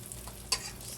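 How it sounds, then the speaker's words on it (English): French toast sizzles in a hot skillet for a second: a steady frying hiss with two sharper spits partway through and at the end. "you're going to put it right into your hot skillet"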